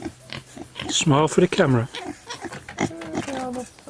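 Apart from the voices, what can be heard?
pigs grunting and oinking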